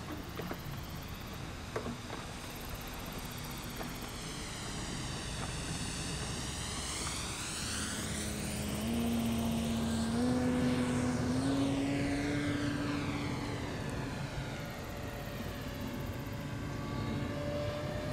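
A propeller airplane, the Blue Max, drones overhead, its engine pitch sweeping as it passes, growing louder in the middle and staying audible as it moves away.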